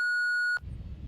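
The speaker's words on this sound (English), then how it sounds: "Leave me a message at the beep." Voicemail answering machine beep, a single clean steady tone lasting about half a second, followed by faint low background noise.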